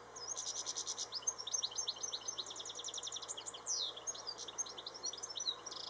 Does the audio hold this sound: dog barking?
no